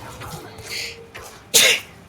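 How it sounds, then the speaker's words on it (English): One sharp, loud sneeze bursts out near the end, following a couple of quieter sniffs and breathy catches, all close to the microphone during gameplay. "I had to sneeze so badly."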